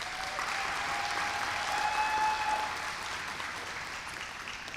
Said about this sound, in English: Let's give these girls one more big round of applause.